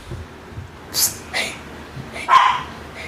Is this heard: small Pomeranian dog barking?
yes